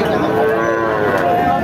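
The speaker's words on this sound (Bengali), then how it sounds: "এটা মূলত দেশাল জাতের গাভীর সাথে বাছুর।" A Deshal breed cow with her calf at a cattle market gives a loud, close, sustained moo that fills the whole moment.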